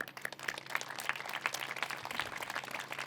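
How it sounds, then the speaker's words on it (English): A groundbreaking crowd applauds the Chinatown CDC team for 335 affordable housing units, with moderately faint, dense clapping running steadily throughout and no talk over it. "to the Chinatown CDC team, I just want to give a big round of applause"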